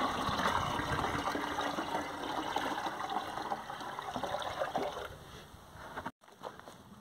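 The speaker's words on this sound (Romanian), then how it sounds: "Turnăm acidul în bază, adică sulfatul de cupru dizolvat în varul dizolvat în apă." Copper sulfate solution being poured into lime dissolved in water, mixed for a spring orchard and vineyard spray: a continuous close splashing pour that eases off toward the end, then stops abruptly before a brief trickle.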